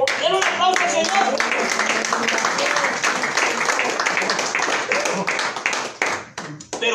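Church congregation clapping for the Lord during a Spanish-language sermon, dense sustained applause filling the room with voices and shouts mixed in, thinning out near the end.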